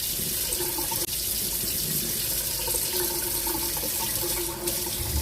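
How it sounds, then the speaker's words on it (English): Jasmine rice washed under a steady stream of running tap water, with a continuous, fairly loud splash and trickle into a sink that holds nearly constant for several seconds, with no talking. "by washing this rice, you're going to get a much fluffier, much more tastier rice"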